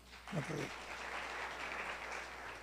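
A church congregation at a Bible study applauds quietly and steadily, the clapping sounding distant and soft, with a brief voice heard at the start.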